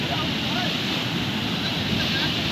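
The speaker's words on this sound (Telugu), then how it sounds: "చూడండి ఇక్కడ ఎంత ఫ్లో స్పీడ్ వస్తుందంటే దాదాపు ఒక హండ్రెడ్ టూ హండ్రెడ్ స్పీడ్తో వస్తుంది వాటర్" Fast-flowing stream water rushes through the Anumula check dam, a steady, loud, unbroken roar with a hint of wind buffeting the microphone throughout.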